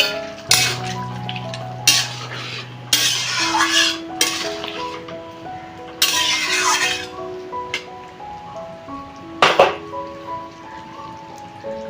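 Fried prawns are added to a jackfruit and potato curry and stirred, with clattering pot-and-spoon scrapes and bursts of bubbling over background music, and no voices.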